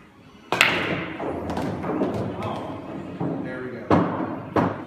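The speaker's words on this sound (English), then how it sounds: "This is a four ball shot, and it goes something like this" Billiard balls on a pool table are struck in a four-ball trick shot, giving a sharp cue strike followed by several knocking clacks and thuds of balls colliding and dropping, close and fairly loud.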